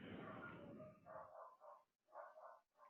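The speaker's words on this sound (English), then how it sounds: "I apologize in the back for my dogs barking." Dogs barking faintly in the background during an online instructor training session, a short run of muffled barks after a burst of noise, quiet and distant.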